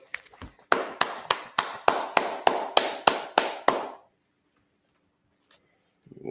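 About a dozen sharp hand claps, evenly spaced and loud, fill a Sabbath service for a few seconds, then stop, leaving near silence before a voice starts up at the end.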